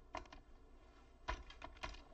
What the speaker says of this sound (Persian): این رو تایپش میکنیم